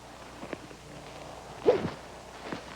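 A golf club cuts through the air in one quick, faint whoosh partway through. The rest is quiet, with only a few soft ticks around it.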